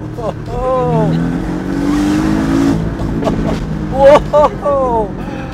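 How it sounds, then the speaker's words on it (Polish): A Porsche 718 Boxster S with a 2.5-litre, 350 hp engine accelerates hard, its exhaust climbing through revs in two loud bursts with a gap between them, while someone talks over it. "jak się tutaj nie cieszyć tym wydechem? No, brzmi niesamowicie"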